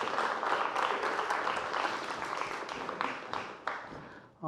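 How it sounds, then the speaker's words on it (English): Audience applause from a comedy show crowd, a dense sustained wash of clapping that thins and tapers toward the end, with a voice coming in at the very close. "Give them a round of applause for being absolutely horrible."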